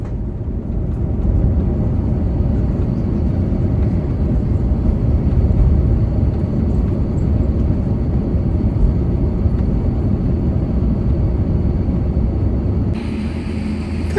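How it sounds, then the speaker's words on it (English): Air India Airbus A350-900 rolling down the runway after landing, a steady loud low rumble of engines and rolling wheels heard from inside the cabin, continuous and unchanging throughout. "I kind of love the way he just glided down the runway and made it all the way down to our turnoff point without really braking too hard"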